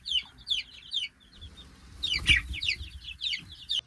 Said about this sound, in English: 30 babies. 30 baby chickens.